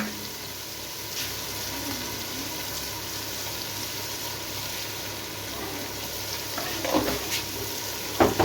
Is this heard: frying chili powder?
yes